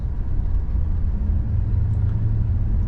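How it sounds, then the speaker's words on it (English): A Porsche on a beachside town's main street in Bargara, Bundaberg, gives a steady low engine rumble and road noise that stays fairly loud and even across the short stretch. "little Porsche driving past"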